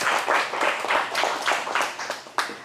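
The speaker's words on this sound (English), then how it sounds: "So let's give them a round of applause again." A crowd at a youth participatory budgeting launch event in Long Beach claps together, a steady wash of many hands lasting a few seconds with small swells and a sharp final clap near the end.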